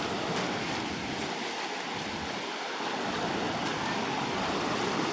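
Steady broadband wash of gentle sea waves on a calm stretch of Playa Reyna beach in Mariato, Panama, continuous surf with light wind across the microphone and no voices.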